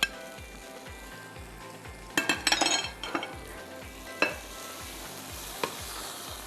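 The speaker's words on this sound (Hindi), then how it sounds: "जैसे ही मक्खन पिघलता है मैं इसमें प्याज शामिल कर देती हूँ" Onions frying in melted butter in a pan, a steady low sizzle broken by a cluster of clattering stirs and a few sharp utensil knocks against the pan.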